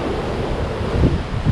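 Continuous roar of incoming-tide surf with waves surging against rocks in Acadia, a heavier thud of water near the middle, mixed with wind noise.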